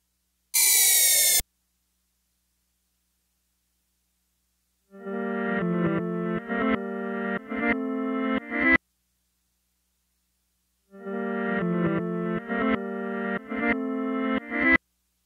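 A reversed audio track in Logic Pro X: a brief harsh noise burst, then two phrases of reversed tonal notes that swell in loudness and cut off abruptly, separated by silence.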